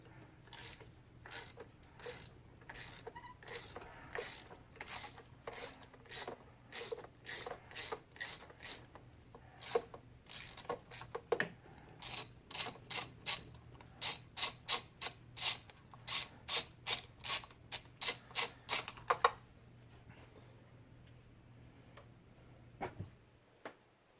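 A ratchet clicks in steady rapid bursts, close and fairly quiet, while a cylinder 5 spark plug is backed out of a BMW E46 engine, with the clicking stopping for a moment near the end.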